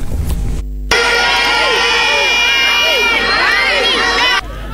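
Large outdoor crowd gathered for a September 22 independence celebration in Mali, a dense continuous roar of cheering voices and shrill ululations rising over steady loud babble, near and sustained throughout.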